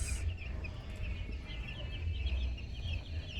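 Young chickens cluck softly at a distance, small bursts of chirpy calls repeating over a low rumbling background hum without any voices.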